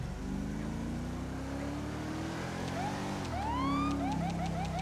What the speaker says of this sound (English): Oh, turn on your siren, bro.